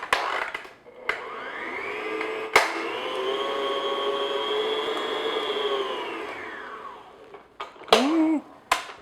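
Electric mixer beating egg yolk and vanilla extract into sugar cookie dough, a steady close whirring drone that holds for several seconds, with brief clicks and knocks at the start and end.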